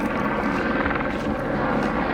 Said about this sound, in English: the helicopter is still going around